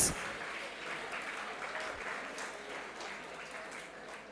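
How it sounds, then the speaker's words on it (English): Applause from the audience at a district youth parliament event in Kakinada, steady crowd clapping sustained throughout, with faint background voices underneath. "Give him a big round of applause"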